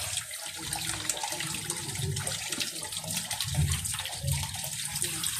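Tap water runs steadily over dropped vegetable slices being rinsed, a close, continuous gushing splash that stays at an even level throughout.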